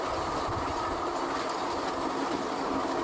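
A passenger train with the open-platform car Georgia 300 rumbles steadily along the rails in Florida, a continuous rolling clatter with no voices.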